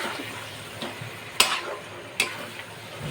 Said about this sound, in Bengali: চিকেনটা আমি দিয়ে দিলাম। এবার আমি এই দিয়ে নাড়ব।